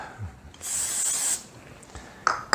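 A short hissing burst of cooking spray into a cup for about a second, close by, followed by a couple of brief softer sprays.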